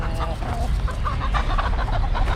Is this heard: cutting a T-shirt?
no